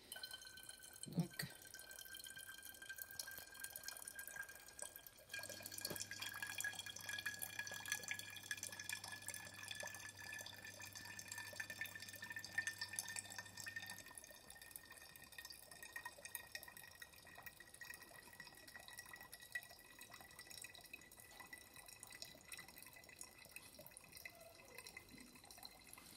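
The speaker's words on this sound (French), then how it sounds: "Quel plaisir de mettre son vinaigre en bouteille." Homemade vinegar is poured into a bottle, giving a faint, quiet trickle and a few scattered drips that run on for a long stretch.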